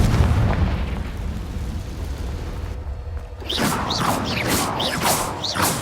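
Confringo blasting curse from the Hogwarts Legacy video game, a loud fiery explosion with rumbling debris, followed by a crackling burst of bright sparkling magical sounds after a brief lull.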